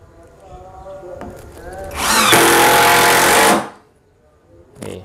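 Tekiro CDID2071 20V cordless impact driver on speed 3, running in a loud, steady burst of about a second and a half, close up, after softer quiet handling sounds.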